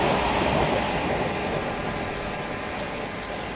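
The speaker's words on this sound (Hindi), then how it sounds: "और अभी हमारे सामने से एक फ्रेट ट्रेन गुजरेगी शायद।" A freight train rolls past close by, a steady, loud broadband rumble and wheel noise that holds throughout and eases slightly toward the end, with no voices.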